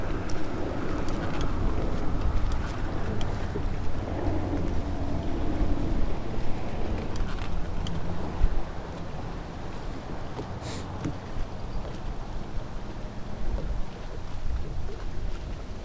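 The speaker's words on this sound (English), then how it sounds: "It's real windy right now, real windy." Strong wind roars and buffets steadily across the microphone beside water while crappie fishing, a continuous rushing noise with occasional gusts.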